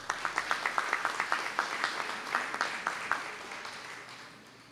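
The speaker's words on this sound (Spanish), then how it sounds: "Felicitaciones, les brindamos un fuerte aplauso" A small audience applauds a prize winner at a neighbourhood raffle, a sparse, steady round of separate claps that gradually thins and fades out.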